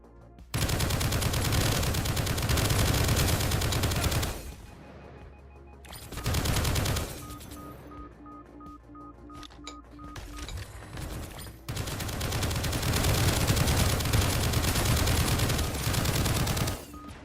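Automated turrets in the video game Project Onyx fire in loud, rapid machine-gun bursts, with three long volleys separated by quieter gaps.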